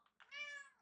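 A Minecraft cat gives a single short meow, quiet but clear, on its own with no talking.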